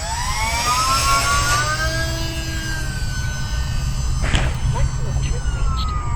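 A small E-flite UMX Gee Bee R-2 RC plane's electric motor spins up, a rising whine that climbs and holds steady over constant outdoor background noise, close by and fairly loud.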